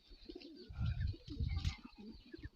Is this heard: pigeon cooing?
yes